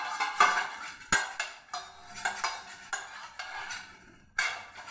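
A steel bowl being greased with ghee gives a series of light metallic clinks and scrapes, several distinct knocks spaced irregularly, close and fairly quiet with no talking.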